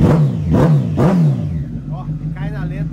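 A BMW sport motorcycle engine is blipped in three quick, loud revs close by, then settles into a steady, low idle while a voice briefly speaks over it.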